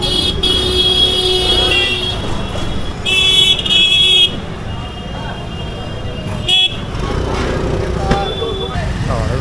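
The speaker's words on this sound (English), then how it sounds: "what is up with the honking in India?" Car and motorbike horns honk repeatedly in busy Delhi traffic, short toots near and far over a steady road rumble, with a voice speaking at times.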